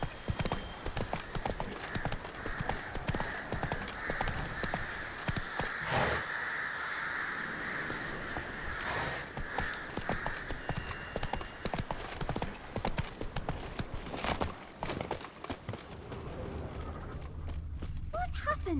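Horse hooves clip-clop steadily throughout a medieval village scene in The Witcher 3: Wild Hunt, with crows cawing and characters talking over the galloping.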